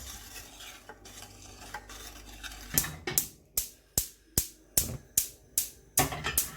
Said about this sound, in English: Put it at a low fire and keep mixing until it's warm.